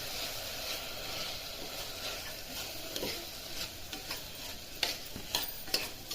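Bitter gourd pieces are stirred into spiced oil, a quiet continuous sizzle with soft spoon scrapes and a few light clinks against the pan near the end; no one speaks.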